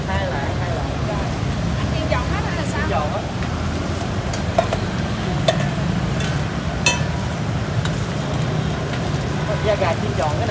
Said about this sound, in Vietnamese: Da gà chiên tròn, cái này chiên vừa vừa.